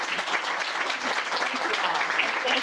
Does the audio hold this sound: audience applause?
yes